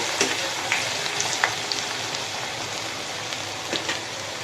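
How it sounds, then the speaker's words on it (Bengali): Garlic frying in a pan while being stirred, a continuous close sizzle like light rain, punctuated by scattered small taps and scrapes of the spatula, with no voices. "এখন রসুনটাকে একটু নাড়াচাড়া করে ফ্রাই করে নিচ্ছি"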